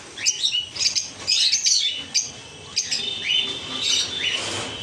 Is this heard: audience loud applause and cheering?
no